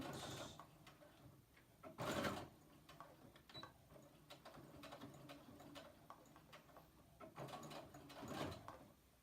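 A sewing machine back-stitches several times to reinforce the pocket of a T-shirt dress, giving faint, quiet mechanical whirring and ticking in short repeated bursts.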